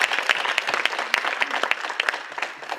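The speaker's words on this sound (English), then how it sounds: "Give them a round of applause," An audience at a women's transformation summit gives a round of applause, a dense, lively burst of many hands clapping close and moderately loud, sustained throughout without voices over it.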